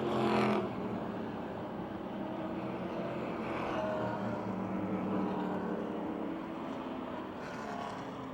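Race cars lap the Motordrome Speedway oval late in a feature event, a continuous loud engine roar that swells and fades slightly as the pack passes, with no break in the noise.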